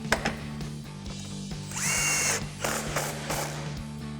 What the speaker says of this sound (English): now we can go back and tighten down our 3 bolts